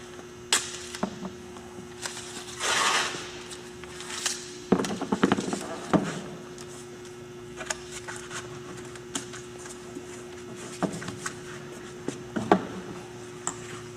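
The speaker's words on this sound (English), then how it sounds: "I'll add some more pieces of tape down here." Pieces of tape pulled, torn and pressed onto a Chevy truck windshield during installation, with scattered sharp clicks and tearing sounds over a steady low hum and occasional brief background talk.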